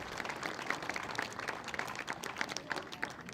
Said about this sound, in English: NextGen15, getting the biggest applause of the day.